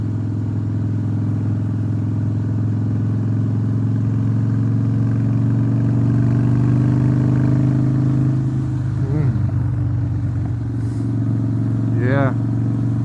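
A Harley-Davidson Breakout Softail ridden through sweeping bends, its engine a steady, smooth, loud drone close by throughout, with a faint shift in tone near the end.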